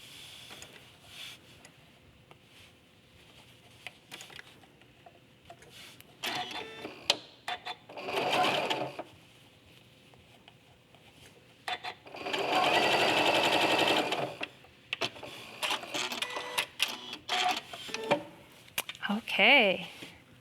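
A sewing machine stitches two pieces of quilt binding together in several bursts of whirring, the longest lasting a few seconds, with quiet handling noise and someone talking in between.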